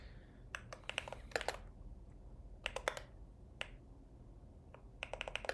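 Mechanical keyboard switches clatter in short bursts of quick keystrokes, close and crisp, with pauses between the flurries.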